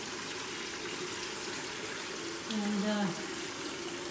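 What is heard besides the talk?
garden hose filling an Aquarest Premium 600 spa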